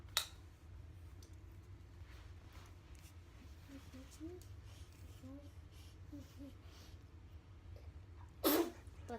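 A single sharp sneeze bursts out near the end, following quiet background noise and faint, soft sounds.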